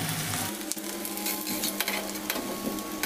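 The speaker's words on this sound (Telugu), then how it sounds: "కొంచెం ఒక 2 మినిట్స్ హై ఫ్లేమ్లో ఇవి వేపుకోవాలి" Onions and curry leaves frying in oil on a high flame: continuous close sizzle and crackle with occasional sharper pops and a few stirring scrapes, with no voices.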